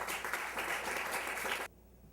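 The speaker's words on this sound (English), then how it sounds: "Let's give a big round of applause for Kathryn." Audience applause for a literary reading at a spoken-word event, a dense wash of clapping from a small crowd that runs steadily and then cuts off abruptly near the end, leaving quiet room tone.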